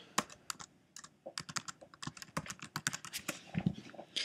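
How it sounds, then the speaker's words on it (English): Keystrokes on a computer keyboard as a word is typed into a library database search, a quick irregular run of close, crisp clicks with no talking. "I'll type in a word related to the kind of journal I'm looking for."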